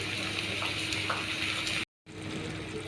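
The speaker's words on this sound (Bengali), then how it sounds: "পেঁয়াজগুলো তো ভাজা হয়ে গেছে, এখন মাংসগুলো দিয়ে দিই। মাংসটা একটু কষে নিয়ে ভালো করে।" Meat and onions frying in a pan, a steady, dense sizzle close by that cuts out briefly near the end and then resumes, with no voices.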